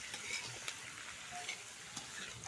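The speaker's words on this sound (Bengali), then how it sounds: "বাঁধাকপিটা দিয়ে একটু সবজিগুলোকে আরও একটু কষিয়ে নেবো" Cabbage and mixed vegetables for festival khichuri fry in a pan, a quiet, steady sizzle broken by a few clinks and scrapes of stirring.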